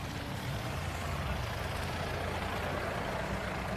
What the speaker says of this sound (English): There we go, tractors are back.